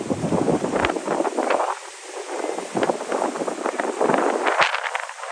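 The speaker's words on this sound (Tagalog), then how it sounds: "Ang lakas ng hangin." Strong wind on a mountain in Padre Burgos, Quezon Province, roars and buffets the microphone continuously, with loud gusty rumbling rising and falling throughout.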